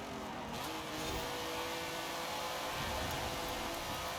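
A tuned car in Forza Horizon 5 with adjusted anti-roll bars and tire pressure, its engine a steady, faint drone and whir as it carries speed through corners, with no other sounds over it.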